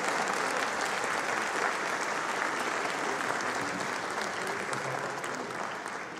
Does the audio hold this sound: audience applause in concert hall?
yes